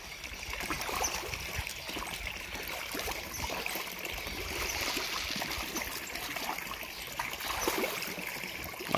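Fish thrashing and splashing at the surface of a big tank while feeding, a steady dense watery spatter with no pauses.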